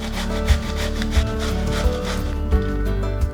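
Courgette rubbed against a kitchen grater, steady rasping strokes close up in a repeating back-and-forth rhythm, fairly loud with no voices over it.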